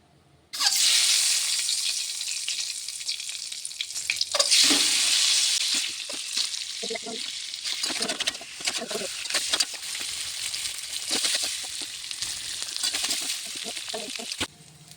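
Duck eggs frying in hot oil seasoned with salt and turmeric in a kadai, a loud, steady sizzle that starts abruptly and continues throughout with a few scraping stir sounds.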